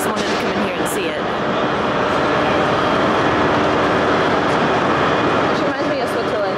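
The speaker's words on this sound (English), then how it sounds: "This is the like central station of Glasgow, train station." Inside Glasgow Central train station, a dense steady roar of crowds, trains and echoing hall noise fills the space continuously, with occasional sharp clanks.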